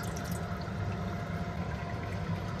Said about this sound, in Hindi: इस रबर को निकालेंगे तो टंकी का सारा पानी अपने आप बाहर निकल जाएगा